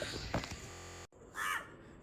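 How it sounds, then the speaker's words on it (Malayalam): A crow perched up high near a Kerala home gives a single short, faint caw that stands out briefly from a low, steady background hum. "കാക്കയാണ്"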